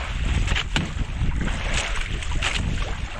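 A boat rides choppy sea waves, with a steady broadband rush of wind and water and splashing thuds at irregular intervals, close and fairly loud throughout.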